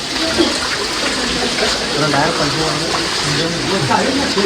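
Water flows and gushes at the source of the Godavari river on Brahmagiri hill, a steady rushing wash close by, with voices talking over it.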